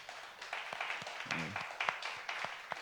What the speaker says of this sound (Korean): 우리 박수로 뜨겁게 환영합니다